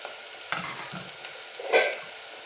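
Chopped bottle gourd sautéing with a little salt in a pan, a quiet steady sizzle broken by a few spatula scrapes and one louder stirring clatter.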